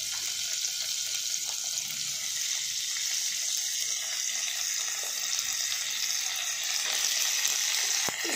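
Chopped onion, tomato and green chilli hitting hot oil in a pan, a steady bright sizzle and crackle that runs unbroken for several seconds with no voices.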